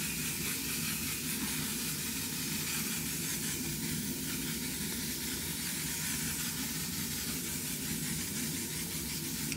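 Makeup setting spray hisses in one long continuous burst from a nearly empty bottle, a steady close airy spray with no talking.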